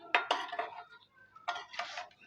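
Chana pulao is stirred and served out of a pot, giving a few quick metallic clinks and scrapes of a spoon against the vessel in two short bursts, fairly quiet.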